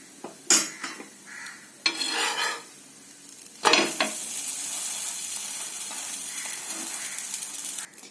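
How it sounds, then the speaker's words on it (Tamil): A paneer sandwich sizzles as it roasts on a hot pan, with a few sharp scraping clatters as it is flipped and then a steady, close frying hiss with no voices. "இப்போ ஒரு சைடு நல்லா ரோஸ்ட் ஆயிருச்சு. இப்ப திருப்பி போட்டுக்கலாம்."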